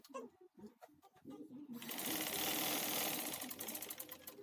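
A sewing machine stitches the side seams of a crop-top, starting after a few soft handling clicks and then running in a steady, loud, continuous whir.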